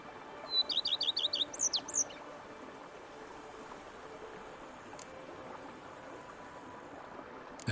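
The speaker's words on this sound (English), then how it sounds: "Bees buzzing, birds chirping." A bird in The Witcher 3 gives a quick series of about six bright chirps followed by a rising whistle near the start, set against a quiet, soft outdoor ambience that continues alone afterward.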